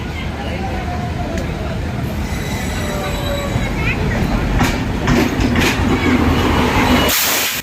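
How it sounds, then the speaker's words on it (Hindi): A train rolls loudly into platform 3 at an Indian railway station, with a continuous close rumble, clattering wheels and faint squeals, voices talking over it. "तभी हमारे ही प्लेटफॉर्म पर, यानी प्लेटफॉर्म नंबर 3 के ऊपर आती है ये ट्रेन"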